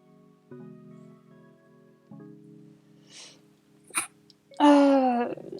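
A woman sneezes once, loud and close, with a sharp intake of breath just before the burst, after quiet steady tones and a brief faint sniff.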